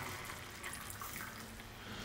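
Water being poured into a pot of cooking dhal, a faint continuous splashing and hissing wash with no breaks.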